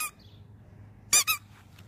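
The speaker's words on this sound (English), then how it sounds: "Oh, it squeaks." A Doberman's squeaky rubber dog ball gives one short squeak, then a brief gap and two quick, loud, high-pitched squeaks close by, with quiet background around them and no talking.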